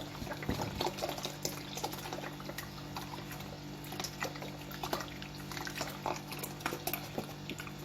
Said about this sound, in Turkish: Sütümüzü ekliyoruz. Bir litre süt arkadaşlar. Hepsini boşaltacağım.